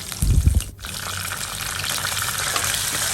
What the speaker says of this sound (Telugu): ఇప్పుడు కరివేపాకు కూడా వేసుకుందాం ఫ్రెండ్స్